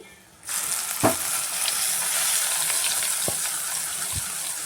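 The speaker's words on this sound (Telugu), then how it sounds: "ఇప్పుడు మనము గ్రైండ్ చేసుకున్న పచ్చడి ఇందులో వేద్దామండి." Ground gooseberry chutney is tipped into a hot pan of tempering with curry leaves. After a quiet half second it bursts into a loud, steady sizzle, with a few soft clinks of stirring.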